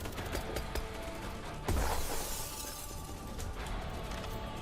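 A grenade blast in an infantry combat video game, a sudden loud burst cutting through a busy mix of gunfire and mechanical clatter, with a short crashing decay afterward.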